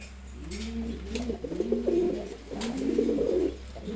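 A male Giya Chulli pigeon coos close by in two soft, rolling phrases over a low steady hum, with no talk.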